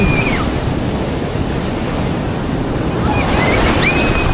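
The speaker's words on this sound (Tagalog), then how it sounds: "Lakas ng alon!" Heavy ocean waves surge and crash in a continuous loud roar, mixed with wind rushing against the microphone.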